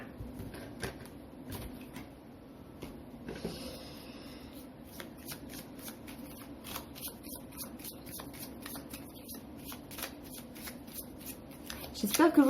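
Tarot cards are shuffled in repeated soft riffles and flicks for a second draw, with quiet papery slaps and rustles at close range beneath a soft speaking voice.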